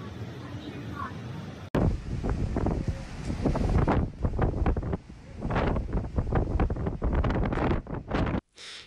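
Typhoon Doksuri's winds in Fujian, China, roaring and gusting against the microphone in loud buffeting surges, with voices faintly present beneath the blasts.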